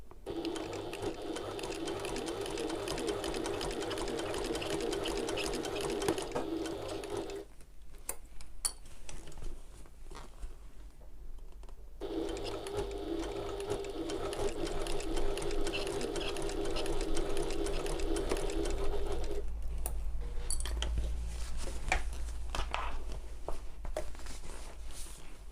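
A sewing machine stitches a fabric shoulder bag in steady close runs, pausing twice for a few seconds before starting again, with no talk.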